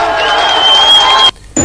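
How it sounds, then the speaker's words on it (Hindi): A crowd claps and chants slogans as the Afghan flag is raised in Afghanistan. The noise is loud and dense, with a whistle-like tone riding over it, then it drops out briefly near the end before returning. "जिस वक्त अफगानिस्तान का झंडा हवा में लहराया, नीचे लोगों ने तालियां बजाई, नारे लगाए"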